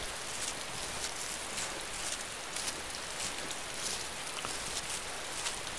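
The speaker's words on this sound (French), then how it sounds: "C'est vrai que la pluie est vachement chiante par contre." Steady hiss of heavy rain in a video game, a dense, even wash of droplets with no pauses and no voices.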